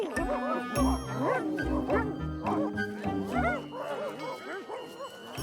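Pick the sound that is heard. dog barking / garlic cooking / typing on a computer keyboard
dog barking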